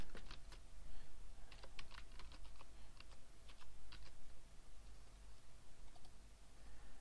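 Fingers type a username on a computer keyboard in quick, uneven bursts of close, crisp key clicks with short pauses, over a steady low hum and no speech.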